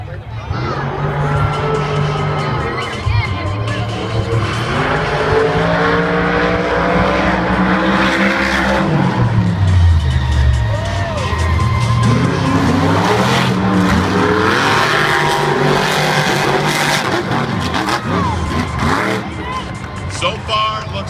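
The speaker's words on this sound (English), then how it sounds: "Here's the brand new Fox Sports 1 Cletus truck and Lindsey Wink and the Lucas Oil Crusader, and they're already getting staged." Monster trucks run practice laps on the Monster Jam World Finals 2014 track, engines roaring loud and continuous with revving surges and tire noise, while an announcer talks over the din.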